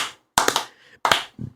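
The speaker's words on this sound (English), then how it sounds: "we have to clap at a different cadence" A few people clapping hands together in two sharp bursts of quick claps, close and loud, with a softer tap at the end.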